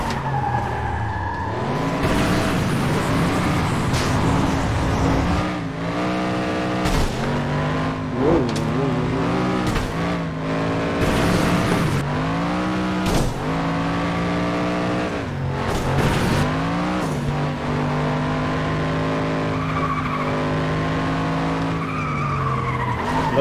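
Race car engine in the video game FlatOut 2, loud and close, revving and easing off through a turn with repeated shifts in pitch, tire squeals and skids over about twenty seconds.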